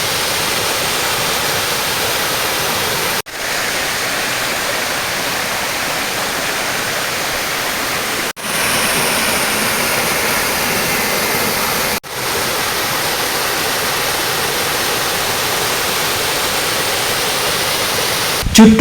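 Rampa waterfall in Andhra Pradesh rushing as a loud, unbroken roar of falling water heard up close, with a few brief dips and no voices.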